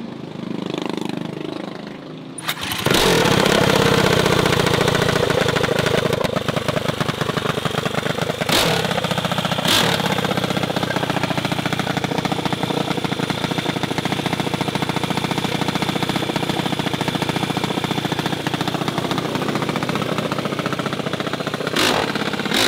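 Mini bike engine on a street in Compton, starting after a brief quiet and then running loud and close, holding a rough idle broken by a few sharp revs.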